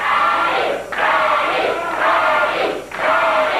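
A large wrestling arena crowd roars and chants for Freddy in loud, surging waves, swelling and dipping roughly every second, with shouted cries mixed into the din.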